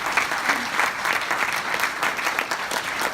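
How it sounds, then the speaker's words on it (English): A conference audience applauds after a hospital long-stay presentation, dense steady clapping from a room full of people carrying on evenly for several seconds. "I think Fiona and the team over there deserve a bit of a clap for that."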